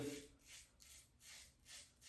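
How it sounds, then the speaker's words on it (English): A safety razor with Astra blades scrapes through a beard in rhythmic strokes, about four soft raspy passes close up with brief pauses between. "Mowing through my beard."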